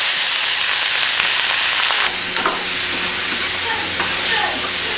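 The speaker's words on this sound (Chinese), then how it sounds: "把那个肉爆香哈" Pork belly sizzles loudly as it is stir-fried in a wok, a steady broadband frying hiss that swells and turns more crackly partway through, with no talk over it.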